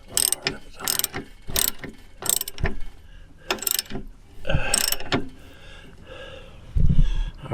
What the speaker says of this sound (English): At this point, I'm just taking the leaf spring bolts loose so I can get the leaf spring out.